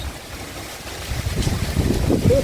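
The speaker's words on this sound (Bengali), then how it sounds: "মাঝে মাঝে বেশ ভালো দমকা হাওয়া দিচ্ছে আর তার সাথে বৃষ্টি তো আছে" Rough, blustery wind with rain rumbling against the microphone, swelling louder toward the end in gusts.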